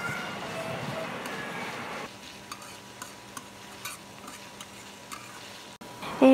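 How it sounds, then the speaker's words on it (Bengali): Chopped banana flower frying in a pan: a steady sizzle and hiss that drops somewhat in level partway through, with scattered light ticks and clicks of a utensil against the pan and no speech. "তো আমি এটাকে ভালোভাবে ভেজে নিচ্ছি।"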